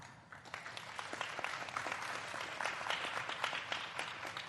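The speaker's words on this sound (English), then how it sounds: "Please, a round of applause." Audience applause at the 2022 Yushan Forum roundtable, a dense patter of many hands clapping steadily throughout, moderately loud and sustained without voices on top.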